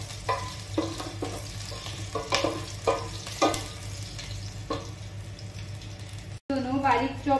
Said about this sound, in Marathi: हरवे मिरसांग सो एका बरें तळसून घेवया. मातशी लसूण तांबडो जावं न्ही.